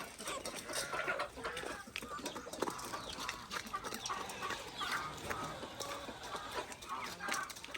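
Chickens cluck steadily in a farmyard where black hens are pecking at a new young bird, with scattered calls over a busy, continuous background.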